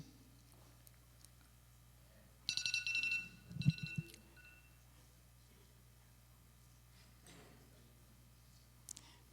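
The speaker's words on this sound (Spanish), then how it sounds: "¿Sabes por qué puse la alarma?" A phone alarm rings in a church setting during a sermon, a bright electronic chime burst lasting about a second and a half, followed by a few low clicks, then quiet room tone.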